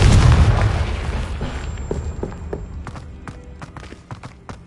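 Confringo blasting spell explosion in Hogwarts Legacy, a big heavy boom right at the start that rumbles and fades over a few seconds, followed by scattered small pops and footsteps.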